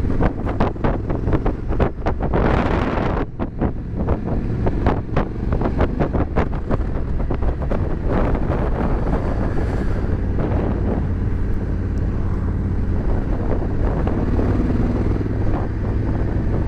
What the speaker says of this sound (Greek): Δροσούλα έχει σήμερα, αέρα πολύ.